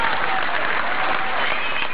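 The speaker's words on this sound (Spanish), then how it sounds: "¿Este aplauso qué significa?" An audience at a peace-negotiation discussion event in Cartagena gives brief, thick applause that holds steady and loud for the whole moment.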